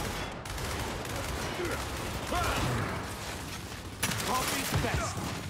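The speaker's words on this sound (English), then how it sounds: "Alright, marksman rifle time," Marksman rifle fire and chaotic gunfire in a Gears 5 multiplayer match, a dense, loud barrage of shots and mechanical clatter with a sharper burst near the end, alongside faint talking.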